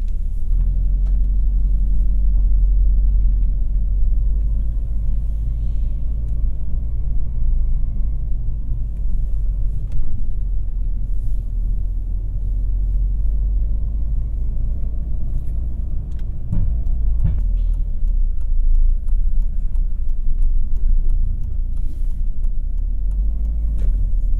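A car with a Selespeed automated manual gearbox, set to sport manual mode, pulls away in first gear. The engine gives a steady, low, continuous rumble heard from inside the cabin, and no one speaks.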